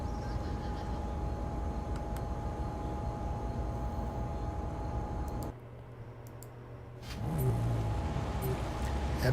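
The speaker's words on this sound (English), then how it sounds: "Martin Zed gets into a Nissan GTR." Nissan GT-R engine in a racing video game, a steady sustained drone with faint clicks and a brief dip in level partway through, with no talking.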